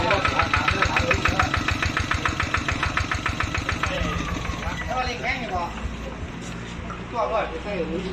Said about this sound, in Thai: เสียงเครื่องยนต์นะครับ